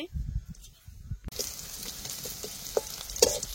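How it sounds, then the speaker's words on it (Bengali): After some low clattering, chopped onions and green chilies drop into hot oil and burst into a loud, steady sizzle, with occasional sharp pops and spatters. "তেলের উপর দিয়ে দিব পেঁয়াজ, কাঁচামরিচ কুচি।"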